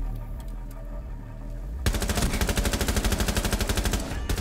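Rapid automatic gunfire in a shooter video game, a dense, loud burst of evenly spaced shots that starts abruptly partway through and keeps going to the end.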